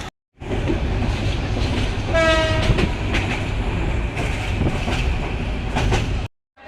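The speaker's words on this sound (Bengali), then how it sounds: "আমরা ট্রেনে যাব, তাই এই যে কমলাপুর ট্রেন স্টেশনে এসে গেছি।" A train at Kamalapur railway station in Dhaka, a loud close rumble of rolling wheels and carriages with a brief horn blast early on, steady throughout before cutting off, no talking.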